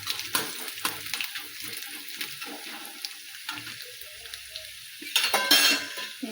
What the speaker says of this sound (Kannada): ಕಡಲೆಬೇಳೆ, ಒಂದು ಚಮಚ ರೀ, ಒಂದು ಚಮಚ ಉದ್ದಿನಬೇಳೆ, ಇವನ್ನೆಲ್ಲ ಚೆನ್ನಾಗಿ ಫ್ರೈ ಮಾಡ್ತೇನೆ ನೋಡಿ